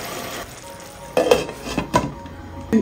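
An onion mixture frying in a pan is stirred, with a low sizzle at first, then several sharp scrapes and clinks of the spoon against the metal arriving in short bursts, close up and without speech.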